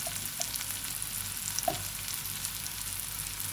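Masala powders fry on a low flame in oil for a capsicum biryani, giving a steady, close crackling sizzle that runs evenly throughout, with a few faint clinks.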